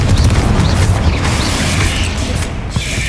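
A Confringo spell blast in the Hogwarts Legacy video game, a loud booming burst with mechanical rattling that holds steady and then fades slightly toward the end, no voices over it.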